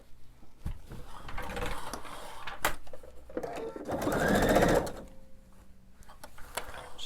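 A sewing machine stitches a quilt in short runs. Its fast mechanical whirr rises clearly for about a second, with clicks and handling noises before and after, close to the microphone.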